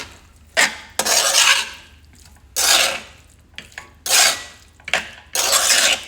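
Coriander being mixed into potatoes in a pan, heard as bursts of scraping and stirring of a utensil against the pan, several loud strokes separated by short pauses.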